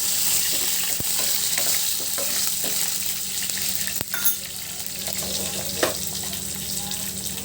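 Ingredients for a potato dal sambar frying in a pan, a steady soft sizzle broken by occasional sharp taps and scrapes of a stirring utensil, with a faint trickle of water in the background.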